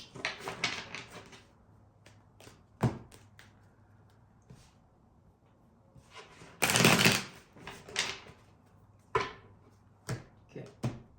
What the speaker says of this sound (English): I still need to keep shuffling, I'm sorry.